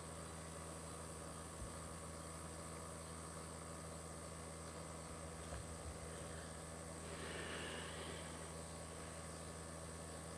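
A car engine hums low and steady while driving, a constant faint drone with road rumble and no voices.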